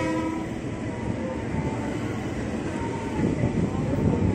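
A commuter train rumbles steadily close by on a curve with a low, continuous roar and faint wheel squeal, filling the whole stretch without pause.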